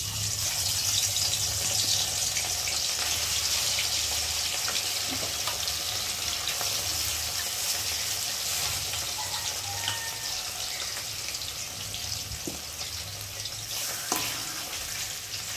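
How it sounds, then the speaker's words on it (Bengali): Whole fish fried one by one in hot oil in a kadai for a Bengali kolmi greens and shrimp dish, giving a steady, dense close-up sizzle that holds for the whole stretch, with faint utensil clinks and no talking. "আর এখন আমি একে একে মাছগুলোকে দিয়ে ভেজে নেব।"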